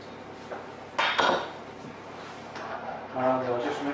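A spoon scraping and clinking in a pan as half a teaspoon of mustard is stirred into a sauce, with a few short clatters and some background speech.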